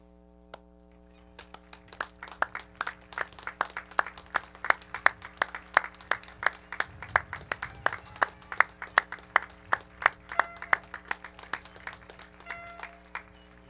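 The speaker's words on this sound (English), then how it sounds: "join me in a round of applause" A graduation ceremony audience claps in a sparse, uneven patter of individual hand claps, building after a quiet start and continuing steadily for over ten seconds in a large, reverberant space.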